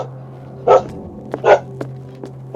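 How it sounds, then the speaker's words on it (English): A dog in the Call of Cthulhu video game gives three sharp, separate barks over a steady low hum, sudden and fairly close in a quiet room. "Dog started barking and scared the crap out of me."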